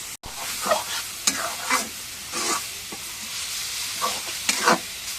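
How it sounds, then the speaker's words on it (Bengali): Radish greens (mula shak bhaji) stir-fried in a pan, a steady sizzle under repeated scraping strokes of a spatula, close and fairly loud. "শাক ভাজি দেওয়া হচ্ছে"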